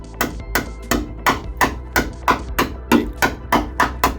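A hammer striking the rusty sill of a first-generation Mazda MX5 in about a dozen sharp, evenly spaced metallic knocks, close and clear, with no talking.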